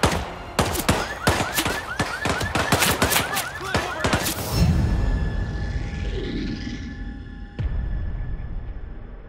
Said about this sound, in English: We got gunshots! Hold the area!